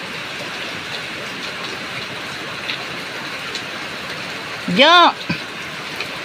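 Steady rain pouring outdoors in the early morning, a dense continuous hiss throughout, with one short voiced call rising briefly over it near the end.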